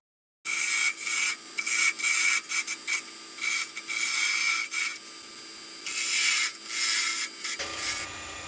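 On a lathe a parting tool cuts into turning wood, giving repeated loud scraping, rasping bursts of about half a second to a second each, broken by short pauses.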